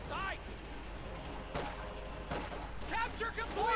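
Gunfire in a skirmish from the video game Company of Heroes 2, a steady wash of distant small-arms shots and bursts under continuous talk.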